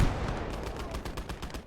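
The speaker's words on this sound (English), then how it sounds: "I'm trying to see if I can get a shot on this tank with the Stern Panzer." Repeated heavy gunfire booms from a Stern Panzer tank gun in the video game Gates of Hell Ostfront, irregular shots with broad noisy bursts, some close and loud, others overlapping in a sustained battle din.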